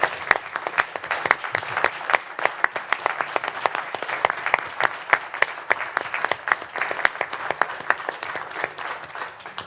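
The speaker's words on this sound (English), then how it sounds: "please join me in a round of applause for our guest this morning" An audience at a morning talk on WWII remembrance applauds steadily, dense clapping sustained for nearly ten seconds and slowly thinning at the end.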